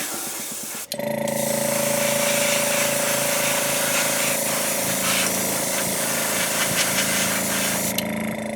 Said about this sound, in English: I do have the sprayer back up to 40 pounds again